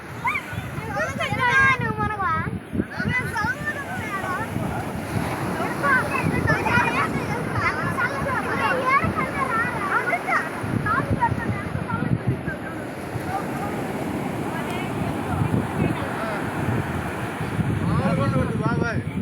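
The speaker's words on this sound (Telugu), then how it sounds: "అసలు అలలు చూడండి ఎంత పెద్ద పెద్దగా వస్తున్నాయి." Big sea waves at Kothapatnam beach near Ongole, a continuous surf wash and roar with wind, under frequent nearby talk and voices.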